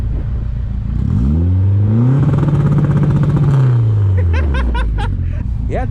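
A turbocharged Honda Element engine revs up hard from idle, climbs and holds high, then drops back with crackles, loud and close, while people talk in the background.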